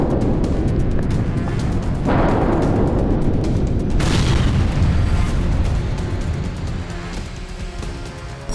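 A Ukrainian suicide drone explodes in Russia, a loud continuous roaring blast with a fresh burst around two seconds and another surge near four seconds, then a slowly fading rumble.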